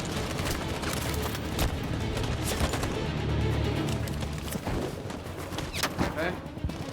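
Troops firing a sustained burst of gunfire in Detroit: Become Human, rattling shots layered over a busy battle mix at moderate loudness, with no talk in between.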